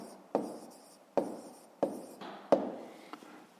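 A pen writes an answer into a school notebook for a fifth-grade maths exercise: four close, scratchy strokes, each starting sharply and fading, with no voice.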